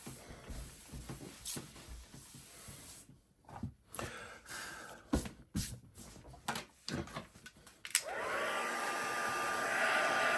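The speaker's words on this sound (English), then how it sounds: "I'm just drying the mat because the mat is quite wet." A hair dryer blowing on a wet rubber stamping mat at a craft desk, a steady loud whirring that starts near the end after scattered handling and rustling noises.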